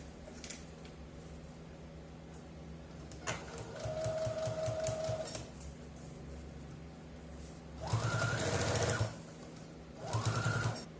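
A sewing machine fitted with a zipper foot stitches a zipper onto fabric and lining in several short bursts of rapid whirring, separated by pauses and faint handling noises, close and fairly quiet.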